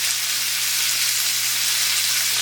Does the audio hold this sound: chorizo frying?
yes